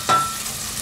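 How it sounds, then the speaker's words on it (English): Onions sweat in a pan with a soft, steady sizzle, opened by a brief scrape of a wooden spoon. "we started the process of sweating out the onion"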